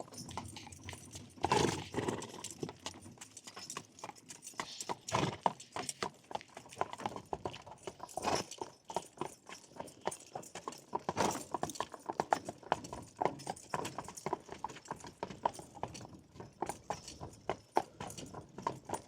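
Belgian draft horses' hooves clip-clop in an uneven, continuous rhythm, close by and fairly loud, with occasional jangling and no talking.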